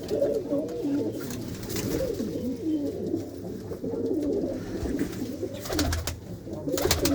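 Several pigeons of fancy high-flying breeds coo steadily in a loft, their low burbling calls layered and continuous from start to end, with a few brief knocks and rustles mixed in.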